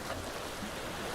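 Ocean waves roll as a loud, continuous watery rush in a live sound healing session, a close and uniform surf noise with no talking.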